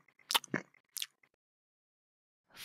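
Cartoon sound effect of a flea chewing and eating: a few quick crunchy, squishy bites in a short burst, then a pause and one more bite, close and clear with no talking.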